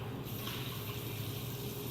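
Water runs steadily from a tap as gloved hands are rinsed beneath it, a constant close splashing hiss with no voices.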